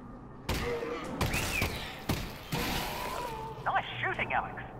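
Gunfire from a handgun in the virtual-reality game Half-Life: Alyx, several sharp broadband shots spaced out over a few seconds, close and fairly loud, with in-game voices and electronic effects around them.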